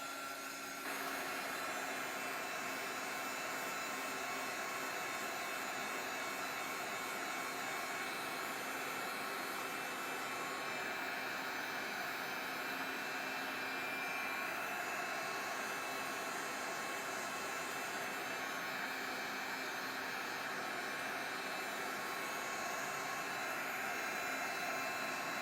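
A hair dryer blows steadily over a mixed media canvas background, a loud, continuous close-up whoosh that does not change across the whole stretch.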